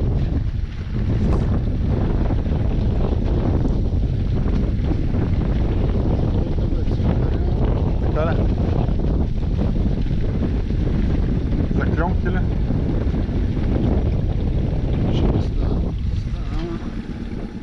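Wind blows steadily across a lake, roaring and buffeting the microphone on a fishing boat at Tsonevo reservoir, with voices speaking intermittently over the constant gusty rush.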